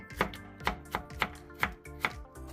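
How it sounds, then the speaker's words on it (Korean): A knife julienning 300 g of radish into slightly thick strips, with about six crisp, evenly spaced chopping strikes close up and no talking. "무 300g을 약간 도톰하게 채 썰어주세요."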